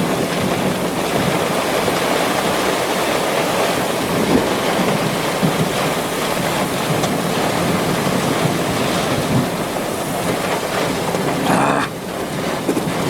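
Heavy rain and gusting wind in a severe thunderstorm on a small hill in the open, a loud, dense, steady roar of downpour and wind buffeting the microphone, with a brief lull near the end.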